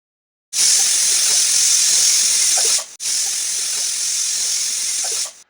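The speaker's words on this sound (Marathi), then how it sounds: "कुकरच्या दोन ते तीन शिट्या आपण काढूया" A pressure cooker holding dal and salted water on a gas stove vents steam in two loud, steady hissing whistles, each lasting about two seconds with a brief gap between them.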